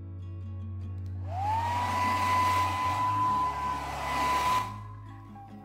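A hair dryer dries acrylic paint mixed with cornstarch and glue on a thrifted ceramic piece, switching on with a rising whine into a steady loud whoosh for about three seconds, then cutting off.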